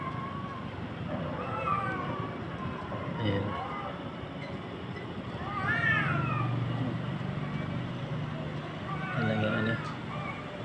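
A cat gives several drawn-out meows and wailing yowls at moderate distance, while people talk quietly in the background.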